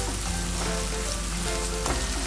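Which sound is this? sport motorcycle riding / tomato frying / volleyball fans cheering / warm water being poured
tomato frying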